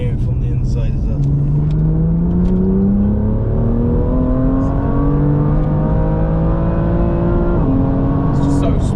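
Tuned BMW M2 heard from inside the car as it accelerates, engine pitch climbing smoothly through the gears with a brief shift partway, loud and continuous, with passengers talking over it.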